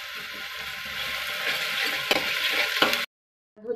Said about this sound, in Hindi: जब तक ये गोल्डन ब्राउन नहीं हो जाएगा मैं इसको भूनती रहूंगी।